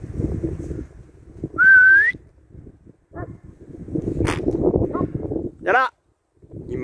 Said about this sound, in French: Bon, je vais le siffler.